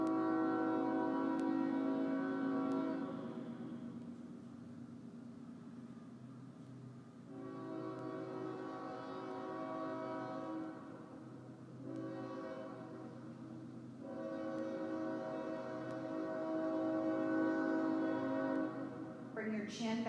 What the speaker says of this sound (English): yes, that's a train.